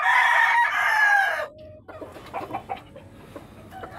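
A rooster crows loudly and close, one long call, followed by scattered clucking from chickens in a muddy farm yard.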